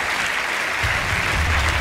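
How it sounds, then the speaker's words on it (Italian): Loud, dense audience applause in a radio show setting, a steady wash of many hands clapping close by, with some low rumble entering partway through. "Potete applaudire anche"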